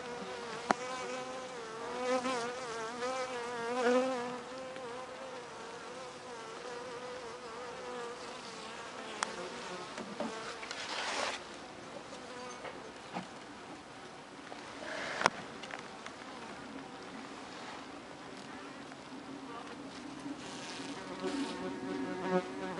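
Bees drone around a dying hive in a continuous, close buzz of many insects, with faint rustles and a few sharp clicks scattered through it.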